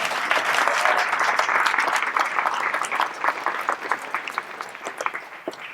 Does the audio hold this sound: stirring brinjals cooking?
no